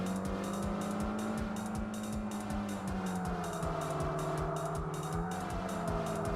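A car drifts in the Kaido Racer video game with a steady droning engine and long tire squeal on stock brakes, close and continuous through the whole stretch.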